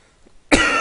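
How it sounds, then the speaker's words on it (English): A single sharp cough bursts out close to the microphone after a brief quiet moment. "I had a bit of a cough there"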